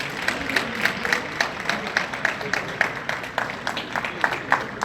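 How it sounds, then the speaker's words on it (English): Audience applause after a live poetry performance by Blaq Ice and A Symphony, a steady patter of clapping from a modest crowd with some voices underneath, moderately loud throughout. "One more round of applause for Miss Symphony."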